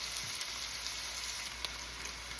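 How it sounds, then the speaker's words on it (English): Sausage browning in a pan, releasing its fat as it fries: a steady, quiet sizzle of fine crackling that runs evenly throughout with no voices. "So the goal here is to get some browning on the sausage."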